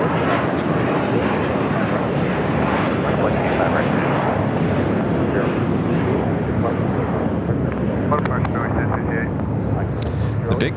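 A large jet airliner, the Qantas 'big Q', taxis toward the gates at LAX's Tom Bradley terminal, a steady broad engine roar continuous throughout at close range.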